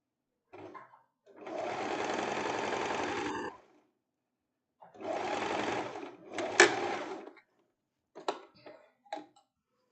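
A sewing machine runs in two sustained bursts while stitching a handkerchief hem, close and even, followed by a few sharp clicks and short mechanical taps.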